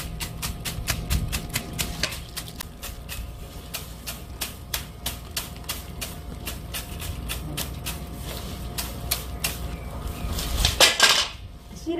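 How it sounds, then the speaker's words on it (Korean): Dried native lettuce plants are shaken as seed is gathered, and the seeds fall in a dense patter of fine, sharp ticks and rattles, close and continuous, with a louder rustle near the end. "씨 떨어지는 소리 들리시죠?"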